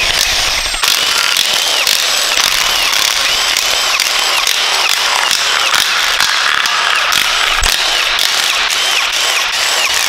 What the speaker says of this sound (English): So let's remove all the bolts.